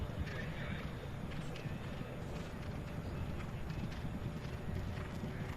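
Horse hooves drum across the turf during a polo match at the UAE Federation Cup, a rapid, continuous clip-clop with a faint whinny, heard at a middle distance amid dense field noise and no clear talk.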